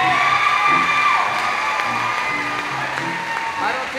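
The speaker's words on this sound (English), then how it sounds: "let's give them all a round of applause for singing and dancing to all that at the same time" At a high school choral holiday concert, an audience applauds and cheers for a group of freshman choir boys, with dense clapping, whoops and children's shouts filling a hall in a steady, lively roar.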